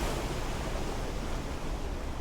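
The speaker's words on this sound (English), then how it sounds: "that is the spray that is being thrown up by the Murchison Falls" Churning white water and spray thrown up by Murchison Falls, a dense, loud, unbroken roar filling the whole clip without any voices.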